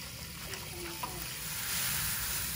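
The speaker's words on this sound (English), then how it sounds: "Stir, baby, stir. I'm stirring." A paddle stirs grain mash into water for brewing beer, giving a steady, close sloshing and swishing wash that swells louder toward the end, with no voices.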